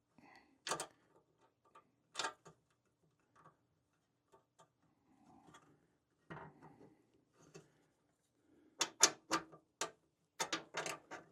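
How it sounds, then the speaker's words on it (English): A wrench ratcheting on the bolts of a Jeep Gladiator JT rear aluminum half door, giving quiet, sparse clicks and short bursts of ticking with faint handling noises between them. "So I'm basically going to just get the wrench in there."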